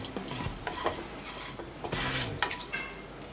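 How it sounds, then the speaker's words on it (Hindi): Whole garam masala spices are stirred in oil in a kadhai for kadhai paneer, giving a close, busy scraping and clinking of the spoon over a soft sizzle, with no voices. "इसी कढ़ाई में हमने थोड़ा ऑयल और ऐड करके इसमें हम ये सभी गरम मसाले डालेंगे"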